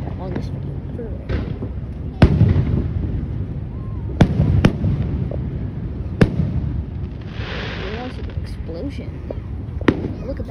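Fourth of July fireworks burst in sharp, booming pops at irregular intervals, some close and loud, with people talking and reacting throughout between the explosions.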